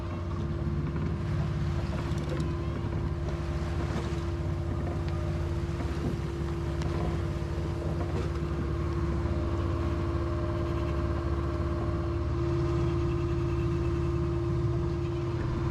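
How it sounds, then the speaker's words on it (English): A homebuilt sailboat motors steadily through choppy Algarve seas, its engine droning in a constant low hum with a tonal whine while waves slap and wash against the hull, close and unbroken, no voices. "we're just sort of smashing into these waves, making 3 and a bit knots"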